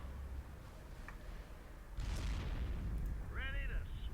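Scatter-shot weapon fire in the space strategy game Sins of a Solar Empire: a booming blast erupts midway over a low rumbling battle bed, then trails into rumble with brief electronic chirps.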